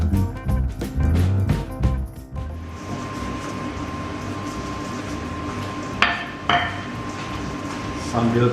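A rolling pin works pizza dough on a counter, first with a series of loud clattering knocks and taps, then a quieter rumble of rolling broken by a couple of sharp clacks.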